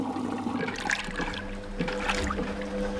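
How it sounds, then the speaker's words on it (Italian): A cartoon washing machine fills with hot soapy water: a steady rushing, gurgling flow with bubbly splashes, moderately quiet and heard alone without any talk. "La lavatrice si riempie di acqua calda saponata."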